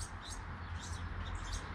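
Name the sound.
young quail chirping in an aviary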